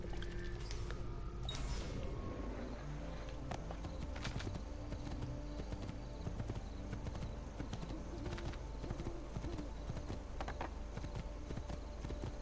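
A large horse's hooves clip-clop steadily at close range in the video game Assassin's Creed 2, a continuous rhythmic beat over busy game ambience with faint birds.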